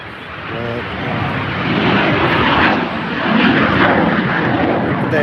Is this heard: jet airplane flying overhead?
yes